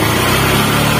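An engine being lightly revved with the throttle while a charging check is done, a loud, steady close-up drone with no break over the short stretch.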